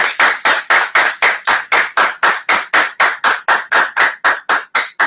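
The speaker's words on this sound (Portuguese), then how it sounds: "eu quero bater palmas aqui para vocês" Steady hand clapping, about twenty sharp claps at an even, fairly quick pace, loud and close, with no voices.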